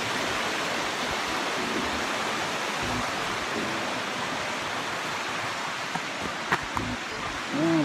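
A stream flows steadily by a footbridge at a trailside water source on the Appalachian Trail in Pennsylvania, a loud continuous rush of water close by with no talk over it.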